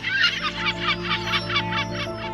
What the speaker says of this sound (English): the island is filled with young chicks, relentlessly begging their parents for food